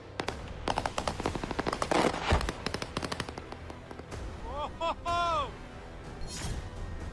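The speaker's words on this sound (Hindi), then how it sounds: "यूक्रेन में रूसी आर्मी आग बरसा रही है" Machine gun fire in war footage of the Russian army in Ukraine, rapid bursts of sharp cracks repeating through the clip, loud and close, under a narrator's voice, with some whistling tones near the end.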